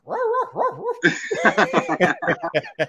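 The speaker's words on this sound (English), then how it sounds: "That's a small dog bark." A small dog lets out a short whine and then a rapid string of high, sharp yips and barks, loud and close, with nobody talking.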